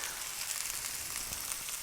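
Mushrooms frying in a pan give a steady, dense sizzle and crackle throughout, close and fairly loud, with no talking.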